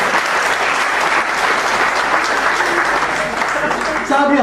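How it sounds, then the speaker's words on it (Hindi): Loud, sustained applause from a crowd at a Hindi comedy poetry event, dense clapping filling the room, with voices rising at the very end. "एक बार मनु के लिए आप तालियां बजा सकते हैं"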